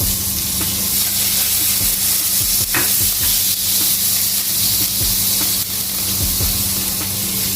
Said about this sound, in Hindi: मैं बटर में इसको फ्राई पकाने लगी हूँ